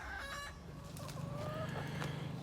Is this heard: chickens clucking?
yes